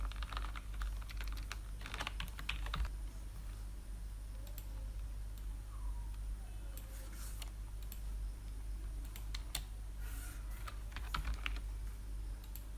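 Someone types a tagline on a computer keyboard, in soft irregular bursts of key clicks over a low steady hum, with no talk.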